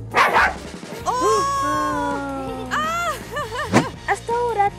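A toy dog from the Mad Dog board game barks and whines in a series of electronic, tonal yelps and howls, close and loud, with children's voices around it.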